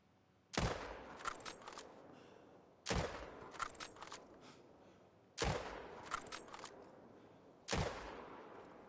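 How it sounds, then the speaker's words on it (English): Four sharp hunting-rifle shots ring out in theHunter: Call of the Wild, evenly spaced about two and a half seconds apart, each with a lingering echoing tail, no talking. "let the shooting begin"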